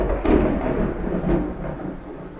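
Thunderstorm in Two Rivers, steady heavy rain with deep rumbles of thunder rolling underneath, loud and close, with no talk.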